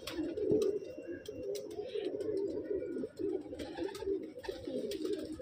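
Low, soft pigeon cooing repeats steadily nearby, with occasional faint clicks and rustles in the background.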